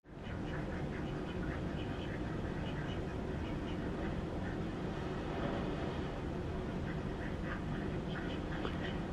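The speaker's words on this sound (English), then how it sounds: "He's watching ducks walk on the snow and then swim in water." Ducks walking on snow and swimming in water give repeated soft quacks, heard faintly at a distance over a steady low background hum, with the calls scattered throughout.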